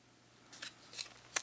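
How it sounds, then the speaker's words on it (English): Long-bladed ribbon scissors cut through paper for a stamped card greeting, giving three quick, close snips spaced out over a second, with the last one sharpest, against a quiet background. "I'm going to use my ribbon cutting scissors because it's a longer blade"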